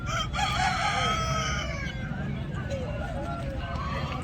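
Country chickens at the Nallapadu market in Guntur, with a rooster's crowing and clucking heard close over a crowded market murmur, while someone talks.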